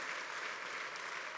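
Applause from a church congregation praising God, a steady dense wash of clapping that fills the short moment alone without any voices, sounding somewhat distant and soft.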